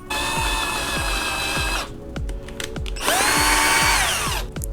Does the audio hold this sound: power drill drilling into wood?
yes